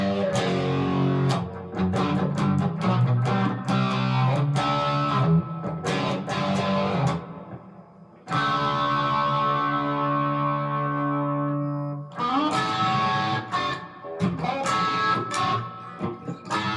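Heavily distorted electric guitar with PRS-style 4-way wiring and phase mods plays chords and sustained notes, with a long ringing held chord in the middle and no talking.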